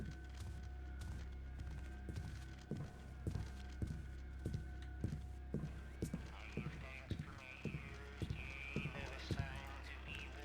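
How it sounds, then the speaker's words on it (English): Footsteps from another location in the stealth game Thief 2: The Metal Age thud in a steady walking rhythm over a constant low ambient hum, moderately distinct and slightly distant. "We're hearing footsteps from some other location."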